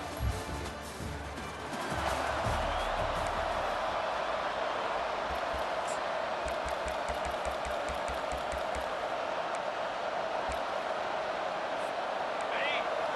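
Stadium crowd at the Swamp in the EA Sports College Football 25 video game, a dense roar that swells after a couple of seconds and holds steady, with rhythmic thumping beats underneath.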